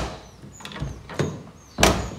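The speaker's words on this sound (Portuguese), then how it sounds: "E é assim que a sua porta tem que fechar." A car door swinging shut after its hinges were adjusted. A few faint squeaks come first, then a solid, close thunk as the door latches.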